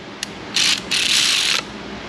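Ratcheting clicks from a wrench tightening spark plugs on a Ford Mustang GT 4.6, a short tick followed by two close, loud bursts of rapid ratchet clatter.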